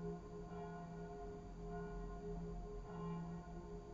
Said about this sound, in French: En même temps que les cloches de l'église.